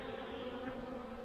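Honeybees buzzing in a robbing frenzy at a hive during a nectar dearth, with some fighting among them: a steady, close, dense drone of many wings that holds without a break.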